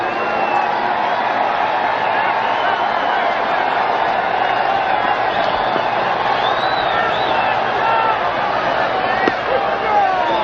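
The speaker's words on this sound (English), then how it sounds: "The crowd out there in the bleachers in left field yelling, hit another one, Dougie." Roaring, yelling crowd in the left-field bleachers at the 1979 World Series Game 1, Pirates at Orioles, a dense, steady wash of voices throughout with a play-by-play announcer talking over it.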